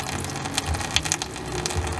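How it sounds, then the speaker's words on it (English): Coolant drains from the bottom hole of a Toyota Camry radiator into a pan, heard as a steady, close watery trickle with faint metallic clicks and occasional drips. "on the bottom it drips through the hole."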